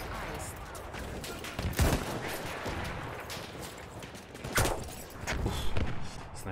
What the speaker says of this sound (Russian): Снайперский выстрел.